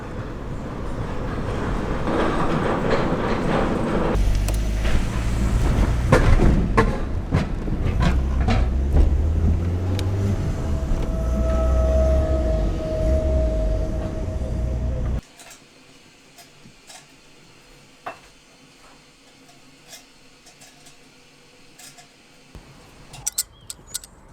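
Interior of a train carrying cars through the Channel Tunnel, a steady loud rumble with clicks and rattles that suddenly drops to near quiet, followed by scattered faint knocks and a few sharp clicks.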